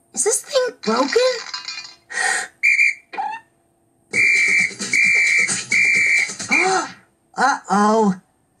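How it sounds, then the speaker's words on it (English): A whistle in an animated cartoon is blown in several sharp toots, including a run of four quick blasts, between bursts of animated, exclamatory voices. "my turn to blow the whistle"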